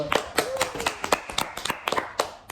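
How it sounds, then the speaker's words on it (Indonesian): A small group clapping hands during a horror-story podcast, a handful of sharp, uneven claps close to the microphone spread over a couple of seconds, with a faint voice in the background. "Tepuk tangan dulu."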